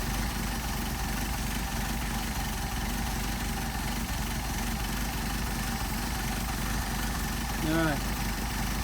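A Mercedes 190SL with Solex carburetors idles steadily at about 600 RPM, a constant close rumble as the idle mixture is adjusted, with a brief higher chirp near the end.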